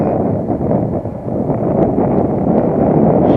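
Strong gusty wind roars across the microphone while an RC plane is flown outdoors, a loud, continuous broadband rush with slight surges and no other clear sounds.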